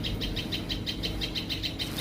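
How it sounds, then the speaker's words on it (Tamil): A tailorbird calls near its nest in Courtallam, a rapid, evenly spaced series of bright high chirps repeating about six times a second, fairly close and clear over a low background rumble. "இந்த சின்ன பறவையின் பெயர் தையல் சிட்டு"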